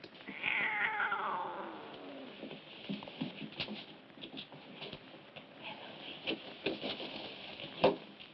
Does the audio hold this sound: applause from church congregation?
no